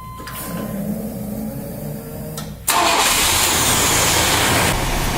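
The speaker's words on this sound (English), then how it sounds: "Now we're going to start the truck up and get it up to operating temperature to check the tranny fluid." A 1996 Chevy 1500 pickup engine cranks briefly, catches and fires up, then settles into a loud, steady running idle close by, with no one speaking.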